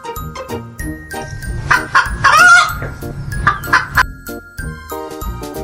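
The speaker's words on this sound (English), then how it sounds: "So what sound does a hen make?" A hen clucks in a series of short bright calls, joined by jingling chimes and tones of a children's tune, loud and close.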